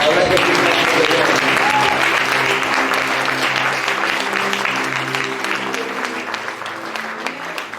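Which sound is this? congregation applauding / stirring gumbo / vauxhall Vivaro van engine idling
congregation applauding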